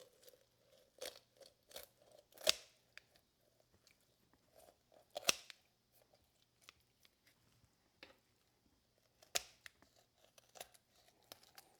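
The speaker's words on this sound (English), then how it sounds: "So just cut down along both sides of the backbone. These shears made quick work of it." Kitchen shears cut along both sides of a raw chicken's backbone, giving a series of sharp, separate crunching snips and tearing cracks, close and fairly quiet, spaced irregularly with brief pauses between cuts.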